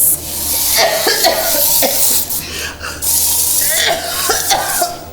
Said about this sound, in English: Spray it into her face.